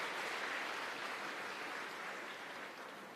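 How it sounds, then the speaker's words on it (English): At an IIT Madras student gathering, a large audience claps steadily as a dense, even wash of applause that slowly fades toward the end, with no talking. "Why are you clapping?"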